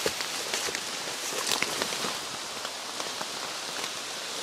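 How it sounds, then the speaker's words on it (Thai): Steady rain patters on a forest campsite, a dense even hiss of drops with scattered nearer splats on leaves and surfaces, continuous and moderately loud with no voices. "เพราะว่าฝนมันตก"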